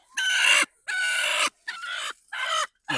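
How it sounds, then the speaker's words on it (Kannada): A free-range country hen brooding on eggs clucks in five loud, close bursts of harsh, throaty calls separated by short silences, with no talk. "ಇಲ್ಲೊಂದು ಕೋಳಿ ಕೂತಿದ್ಯಾ ಒಳಗಡೆ, ಮೊಟ್ಟೆ ಹಿಡಿಯೋಕೆ ಕೂತಿದ್ದೆ"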